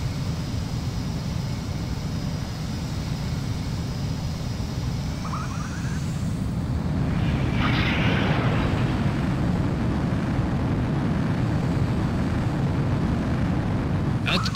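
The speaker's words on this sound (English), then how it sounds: "Mobius 1, you are cleared for takeoff." A fighter jet taking off in Ace Combat 04: a steady, heavy engine roar with a high whine that fades out, then the rumble swells broader and louder as the aircraft powers away.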